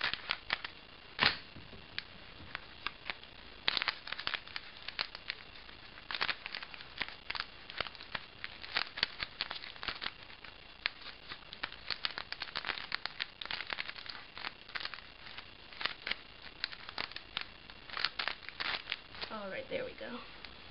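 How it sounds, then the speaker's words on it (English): Scissors cutting open a Magic: The Gathering card pack, a run of small crisp snips and papery crackles close to the microphone, with someone talking over them. "I'll use my handy dandy scissors."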